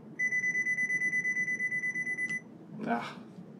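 A rapid train of high electronic beeps runs for about two seconds, then a Nikon Z8/Z9 mirrorless camera's synthetic electronic shutter click sounds once, close by.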